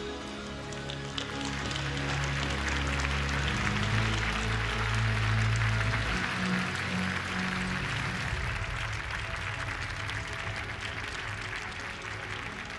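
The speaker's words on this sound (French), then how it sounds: "accueillir, sous vos applaudissements, les 10 finalistes du concours régional des pitchers" An audience at a deeptech regional pitch competition applauds to welcome the ten finalists. Steady clapping swells in alongside low tonal music at first, then continues as a dense, even wash after the music drops away.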